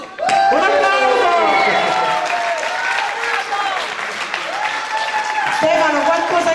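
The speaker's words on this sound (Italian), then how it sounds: "Un applauso!" An audience at a singing contest in Stuttgart applauds loudly and continuously, with cheering voices and excited shouts mixed into the clapping.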